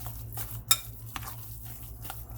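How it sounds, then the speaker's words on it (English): Stirring a turkey sausage mixture with olive oil in a bowl: soft, faint scraping and clinking of a utensil against the bowl, with one sharper tap, steady low background hum throughout. "Stir, stir, stir."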